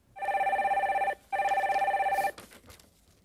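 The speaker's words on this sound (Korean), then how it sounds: "전화 연결 빨리 받아보겠습니다" A telephone rings for a call-in line on a Korean stock-market radio show, sounding two long electronic trilling bursts with a short gap between them, loud and clear, then cutting off into quiet room noise.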